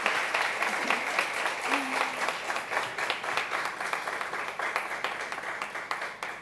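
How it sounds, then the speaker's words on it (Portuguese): A crowd applauding steadily at the close of a lecture, dense clapping sustained throughout at an even level with no pauses. "vocês merecem esse aplauso de todos nós"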